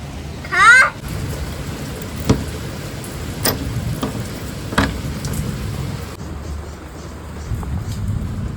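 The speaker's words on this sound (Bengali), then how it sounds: "কেমন লাগতেছে বৃষ্টি তোমার?" Heavy rain falls in a steady, loud hiss throughout, with a brief bird chirp near the start and a few scattered knocks or drips over the downpour.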